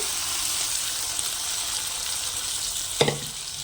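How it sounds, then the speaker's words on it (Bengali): Spice masala fries in a pan with a soft, even sizzle, then boiled lentils and potatoes drop in with a brief splash and clatter near the end, no voices. "মশলাটা খুব সুন্দর করে কষিয়ে নিয়েছি তো এবার আমি এর মধ্যে দিয়ে দেব ডাল আর আলু যে সেদ্ধ করে নিয়েছিলাম ওটা দিয়ে দেব"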